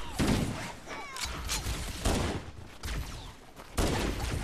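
Rapid bursts of video game gunfire crack in clustered volleys across the clip, loud and dense, with sharp onsets every half second or so and no voices over them.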